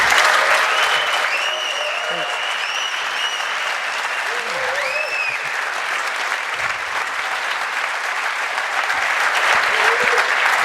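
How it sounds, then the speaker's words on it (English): Sustained applause from a room full of conference attendees at a TYPO3 event, steady and dense for the whole stretch with faint voices and whistle-like tones mixed in. "So please give those two guys the warmest applause you've given"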